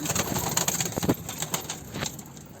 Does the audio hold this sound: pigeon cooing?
yes